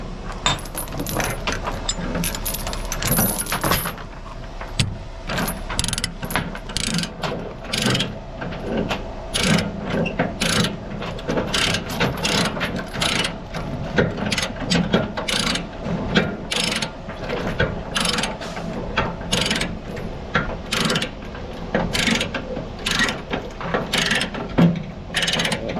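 A chain load binder ratchets steadily to tighten a chain, a long run of close, loud mechanical clicks of the pawl repeating in an even rhythm with no talking.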